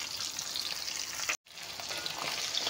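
Fish frying in a pan of hot oil for a cooking dish with bottle gourd, a steady close sizzle that cuts out for a moment and then carries on.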